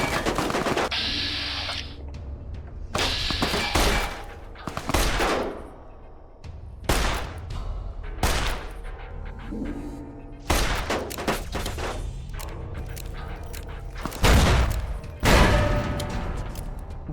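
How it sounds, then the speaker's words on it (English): Gunfire and explosions from the video game Fallout: New Vegas, with repeated loud bursts of shots and booms at irregular intervals throughout, dense and close, with no talk over them. "what the hell's exploding?"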